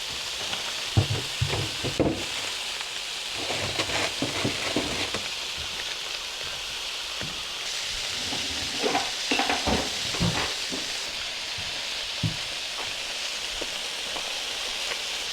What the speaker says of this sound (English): I usually let the vegetables cook for a little while before I turn them the first time